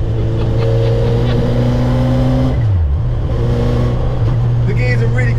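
A big motorbike engine fitted in a tiny little van pulls hard, a loud droning hum that climbs in pitch, dips as the gear changes, then climbs again. It is heard from inside the cabin with voices over it.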